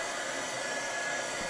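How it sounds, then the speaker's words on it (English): A small handheld vacuum cleans between piano keys with a steady, close, high-pitched whirring hum that stays constant with no talk. "I just have a little vacuum here."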